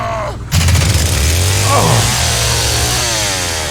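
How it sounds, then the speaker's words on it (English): A replicated real chainsaw engine from the Texas Chain Saw Massacre video game catches after a brief quiet moment, then roars loud and close, its pitch rising and settling into a steady, buzzing rev. "do something quite complicated and replicate an actual chainsaw engine"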